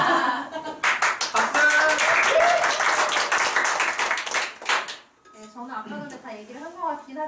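A seminar audience claps together in a loud burst of dense applause lasting several seconds, then fades as a voice begins speaking.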